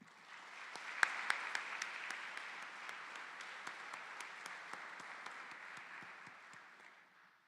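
A crowd at a university address claps steadily for several seconds, sounding somewhat distant and muffled, with a few sharper claps standing out before the applause slowly fades.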